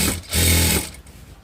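A sewing machine runs a short top-stitch on fabric, giving a brief close mechanical whir that swells and then winds down, followed by quiet handling noise.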